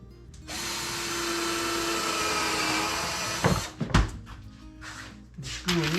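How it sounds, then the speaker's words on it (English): Power drill boring a hole during a clamp-and-screw modification job, a steady loud whirring run for about three seconds, then stopping into a few sharp knocks and bumps. "We need to drill a hole here."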